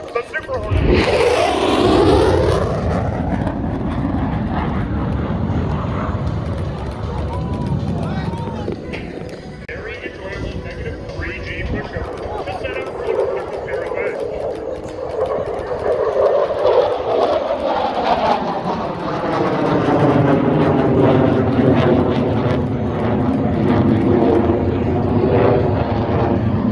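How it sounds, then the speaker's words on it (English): A Boeing F/A-18 Super Hornet jet roars past at an air show, its loud engine noise rising and sweeping in pitch as it approaches and passes overhead, while an announcer talks over the PA. "I now direct your attention to the right as the Super Hornet approaches."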